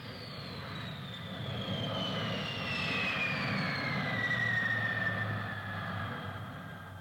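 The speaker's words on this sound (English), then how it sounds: "And a jet plane," A jet plane passes overhead, its engine building from a distant whine to a loud roar and then easing off again as the falling whistle sweeps by, with no voices.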